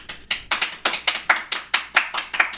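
Rhythmic clapping from a small group on a cruise, about a dozen quick, sharp bursts at a steady pace, close and fairly loud, with no one talking over it.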